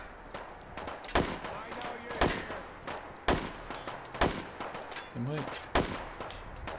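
Heavy gunfire in Fallout 4 while clearing Dunwich Borers: loud, sharp shots land about once a second across the stretch, with other game noise between them and a player speaking briefly.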